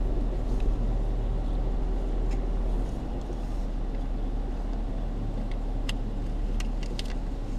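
A car moving through traffic in San Angelo, giving a steady, continuous low road and engine rumble with faint higher hiss, heard from inside and without talk.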